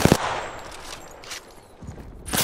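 Gunfire in the battle royale game Apex Legends: a sharp burst of shots at the start, then a few quieter bursts and a final loud shot, over steady background noise.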